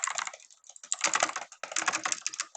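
Rapid butterfly clicking on a Logitech G300 mouse during Minecraft play produces dense, close, fast clicks in two bursts separated by a short pause, with no talking.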